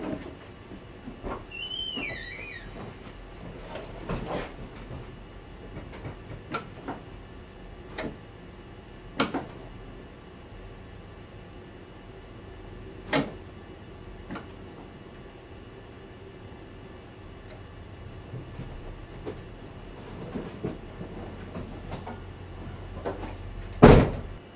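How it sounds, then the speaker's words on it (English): Opening a car's throttle plate by hand and letting it snap shut with the engine off gives scattered sharp mechanical clicks and ticks, close and fairly loud against a quiet background, with a heavier thump at the end. "Now if I womp on the throttle plate, we should see exactly how far it opens."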